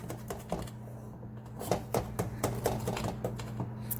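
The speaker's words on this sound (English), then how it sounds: "we're just gonna cut the cornbread up into pieces" A knife cutting cornbread into pieces, a series of light, irregular taps and clicks against a board over a steady low hum, close by.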